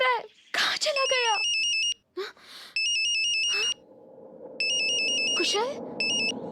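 A phone's electronic ringtone chirps in repeated bursts, loud and close, interleaved with sharp dramatic sound effects and a sneeze-like gasp in a drama scene.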